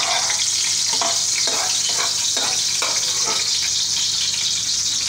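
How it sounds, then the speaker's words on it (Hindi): Garlic sautéing in hot ghee in a pan, a steady close sizzle and fry with a few soft stirring scrapes at roughly one-second intervals, no talk. "मैंने लहसुन डाल दिया, थोड़ा इसको सौते कर लूँगी।"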